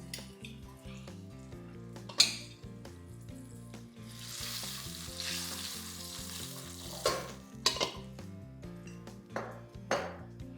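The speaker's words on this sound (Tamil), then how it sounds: "இப்போ கொஞ்சம் தண்ணி ஊற்றிக்கலாம்." Ginger kuzhambu sizzles steadily in a hot pan as water is added, the hiss swelling briefly amid scattered clinks and scraping of a utensil.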